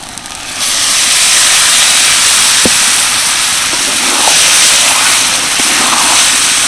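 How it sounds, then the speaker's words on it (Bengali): Boiled chana dal added to a hot curry pan sets off a loud, steady hiss of sizzling that starts abruptly and carries on unbroken, with faint scrapes over it. "এবার দিয়ে দিচ্ছি সিদ্ধ করে রাখা ছোলার ডাল"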